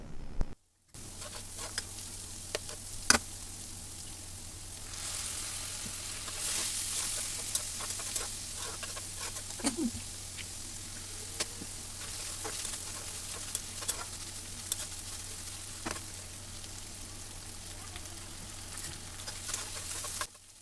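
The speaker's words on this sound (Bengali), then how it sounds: "আমি এখানে লবণ টেস্টিং সল্ট সয়া সস আর টমেটো সস দিয়ে ভালোভাবে আবারও কিছুক্ষণ ভাজবো" Vegetables for fried rice sizzle and hiss steadily in a hot pan with salt, soy sauce and tomato sauce, the crackle rising and staying fairly loud, with occasional stirring clicks and no talking.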